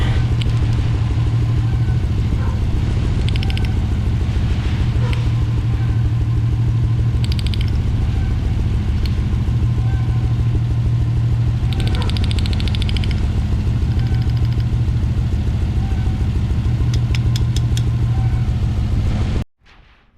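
A 1995 Ford Explorer engine idles steadily after a spark plug cleaning, a loud close rumble with a rhythmic clatter that runs unbroken for about nineteen seconds and then cuts off abruptly.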